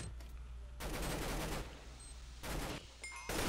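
Gunfire from an AK rifle in the Minecraft shooter Minestrike: loud bursts of rapid automatic fire, with the longest burst in the middle and shorter ones near the end.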